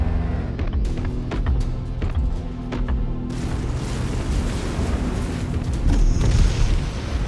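Explosion of a destroyed mech target in MechWarrior 5: Mercenaries, a heavy booming blast with rumbling, crackling debris that rolls on for several seconds and swells again near the end.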